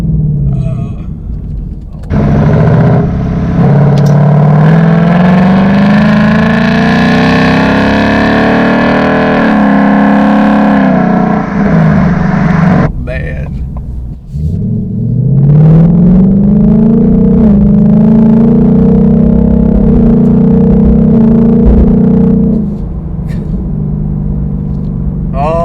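A 2018-2019 Ford Mustang GT with an X-pipe, active exhaust and automatic transmission drones loudly up close, its exhaust note dipping and rising through downshifts before easing off, while a man exclaims over it.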